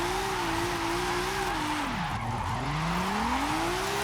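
A 2JZ-swapped Nismo replica drifts in Forza Horizon 5, its engine droning steadily as the tires slide. Pitch dips and rises through the slide, loud and close, with no talking.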